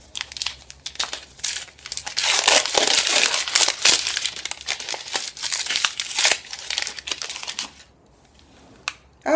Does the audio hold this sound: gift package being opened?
yes